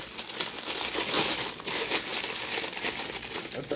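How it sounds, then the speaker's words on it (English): Large sheet of parchment paper handled and crumpled during an unboxing, a steady close crinkling rustle with sharper crackles, no talking over it. "That's a big parchment paper."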